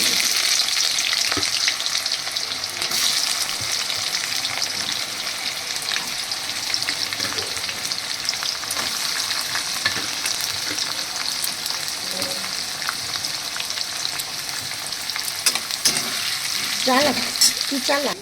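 Sliced onions frying in hot oil tempered with cardamom and spices, a continuous loud sizzle with scraping stirs and occasional sharp clinks of the spatula against the pan throughout, no voices.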